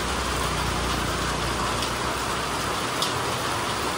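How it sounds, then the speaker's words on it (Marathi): Heavy rain pours steadily outside a roadside shop, a dense continuous hiss of falling water with a low rumble underneath and no voices. "फुल जोरदार पाऊस आहे"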